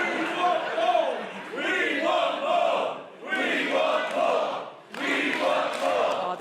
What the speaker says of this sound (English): Oh, the Resurgence crowd really getting into this one.